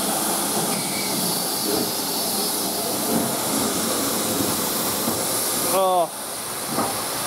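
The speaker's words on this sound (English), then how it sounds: "I feel so psyched with this locomotive." Urie Class S15 No 506 steam locomotive running at Leicester North, a steady broad steam hiss and rumble throughout, with a short exclamation near the end.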